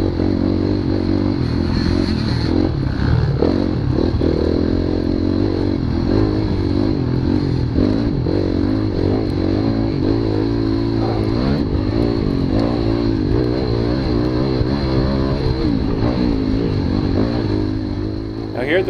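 Off-road motorcycle racing in an NMA trail race at the White Knuckle GP, a continuous near engine drone with revving and clattering over rough ground, and a rider's voice talking over it.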